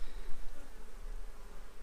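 Honeybees buzz steadily around a hive, a continuous close, moderately loud insect drone with no talking.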